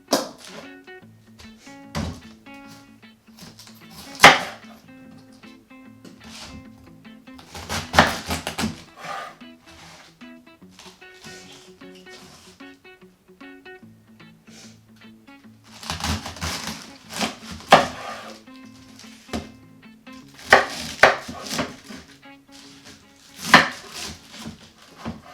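A knife chops cabbage on a board for sauerkraut, with clusters of sharp close thunks coming in irregular bursts separated by quieter stretches.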